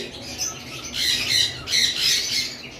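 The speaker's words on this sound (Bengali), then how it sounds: "এই যে দেখতে পাচ্ছেন আমাদের বারান্দায় বন্ডিং পেয়ার কোকাটেল রয়েছে" Cockatiels in a bonded pair squawk on a home balcony, loud shrill calls repeating in bursts across the clip with no talking.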